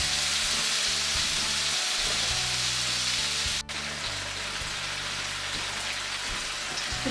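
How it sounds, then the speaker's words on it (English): Tomatoes sautéing in oil for chana masala, giving a steady, dense sizzle and crackle that runs unbroken and close, with one brief dip partway through and no voices. "So just saute this till the tomatoes soften."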